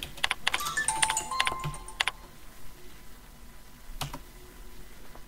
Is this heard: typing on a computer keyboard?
yes